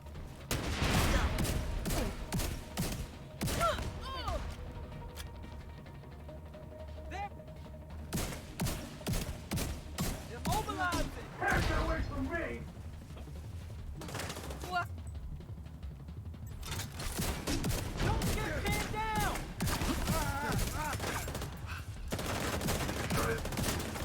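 Gunfire crackles in a Division 2 shootout, bursts of rapid shots and scattered single cracks alternating with quieter gaps, loud and close, with brief radio-style voice callouts between volleys.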